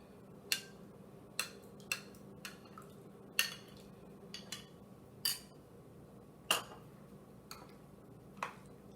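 A spoon stirs yogurt into coconut chutney in a bowl, giving about nine light, irregular clinks against the bowl over a quiet room background, with no talking.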